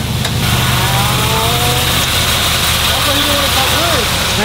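A supercharged Chevrolet SS clone idles with a steady, loud rumble and a wavering supercharger whine, while people talk nearby.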